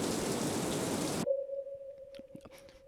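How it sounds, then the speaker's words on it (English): Heavy rain pours as a loud, dense hiss for about a second, then cuts off abruptly. A sustained steady tone follows, with faint scattered knocks. "As you can see, the rain today is crazy."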